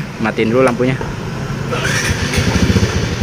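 A Yamaha Jupiter Z motorcycle engine starts up after a short stretch of speech, then settles into a steady, close running drone with a faint whine on top.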